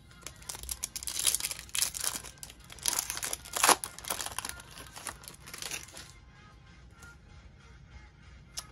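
Foil baseball card packs being torn open and crinkled by hand at close range, a run of crisp tearing and crackling bursts that fade into lighter rustling toward the end.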